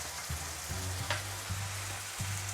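A tomato-onion masala with turmeric, red chili and coriander powders fries for rajma curry, giving a soft, continuous sizzle with faint low bubbling and a few stirring scrapes.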